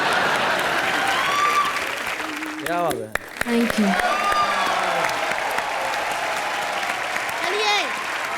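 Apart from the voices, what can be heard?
audience applause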